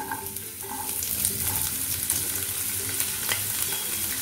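Onion, carrot and capsicum frying with garlic in hot oil over a medium flame for white sauce pasta, a continuous close sizzle with occasional stirring scrapes and crackles, and no talking.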